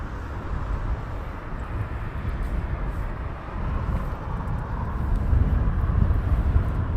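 An airliner on final approach at Heathrow Airport produces a steady, low jet rumble that holds throughout and grows slightly louder toward the end, with no talking.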